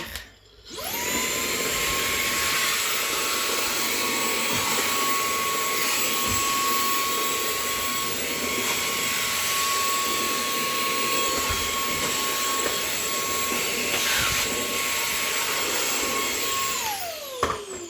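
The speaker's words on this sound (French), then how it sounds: "Et après, on aspire." A vacuum cleaner switches on and runs indoors in a freshly painted bedroom, making a loud, steady high-pitched whine for about sixteen seconds before shutting off.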